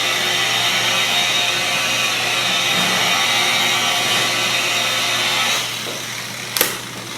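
A DeWalt 849S rotary buffer runs steadily with a foam pad and polish on a flat car panel, a loud continuous motor whine that holds level, then drops as it winds down near the end, followed by a brief knock.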